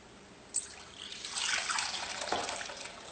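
Water pours and splashes into a bowl holding unscented soap and drops of Melaleuca oil, a soft trickle that builds into a steady close-up gush lasting a couple of seconds.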